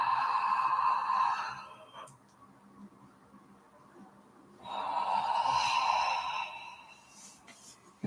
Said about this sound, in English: And I'll invite you to take a big yawn.